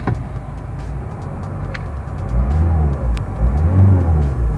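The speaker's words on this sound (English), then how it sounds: "You see, this is the sound, how the car really sounds." A 2017 Renault Clio engine starts and settles into a running idle, then swells into a deeper, louder rumble as it revs in the second half, heard close up with no talk.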